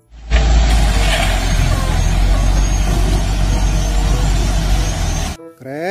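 A toy dump truck gives a loud, continuous rumbling engine-like drone that holds steady for about five seconds, then cuts off abruptly.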